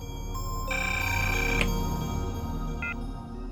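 Electronic telephone ringtone chirping in short tonal bursts over a steady low background hum, no voices, fairly close and clear.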